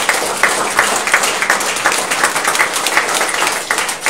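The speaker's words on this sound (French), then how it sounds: "Acclamons la parole de Dieu." A church congregation bursts into dense, steady applause and clapping, filling the room continuously for a few seconds.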